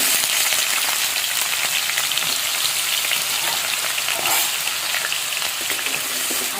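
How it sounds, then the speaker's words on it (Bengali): Small pieces of cut potato fry in hot oil, giving a steady, loud, close sizzle and crackle that runs unbroken throughout with no talking. "আলুটা পুরোপুরি ভাজা হয়ে গেছে"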